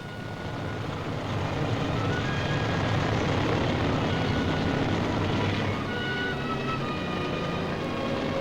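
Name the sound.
Dragonfly naval helicopters flying past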